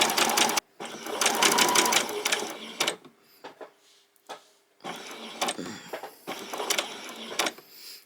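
A sewing machine runs a long basting stitch on white fabric for a summer top, buzzing in steady close bursts with a short pause midway before it starts up again.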